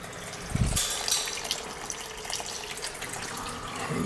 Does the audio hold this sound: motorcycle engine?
no